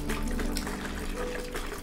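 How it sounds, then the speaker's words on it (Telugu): Water being poured and stirred into neem oil solution inside a plastic container, a steady close liquid splashing and swishing that runs unbroken for under two seconds. "ఇలాగా ఒక డబ్బాలో మంచిగా మనము మిక్స్ చేసుకోవాలండి"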